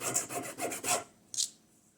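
Quick back-and-forth scraping strokes of sanding on hard polystyrene plastic model rotors, several rasps in a row, a pause, then one final short scrape, fairly quiet and close.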